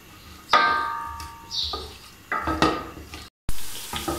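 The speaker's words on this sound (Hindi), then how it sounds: "ये मैं स्लाइस में कट किए हुए प्याज डाल दूँगी इसके अंदर और इसे फ्राई करूँगी" Sliced onions go into about half a cup of hot oil over medium heat: a few clattering drops and stirs, each followed by bursts of close sizzling, with a brief silent break.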